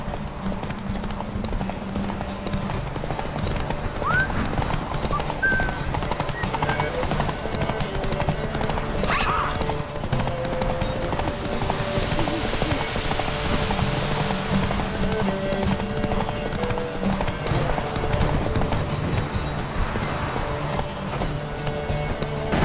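A horse gallops across open ground in The Witcher 3, with rapid rhythmic hoofbeats carrying throughout alongside a brief whinny, under game dialogue and score.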